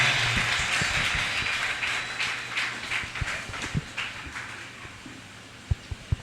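A church congregation applauds for Jesus in a sustained wash of clapping that fades gradually, with a few sharp close claps near the end.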